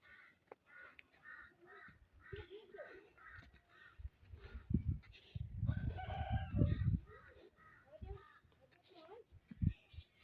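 A rooster crows at a dargah park, heard faintly at a distance under nearby talk and children's voices, with a few short calls.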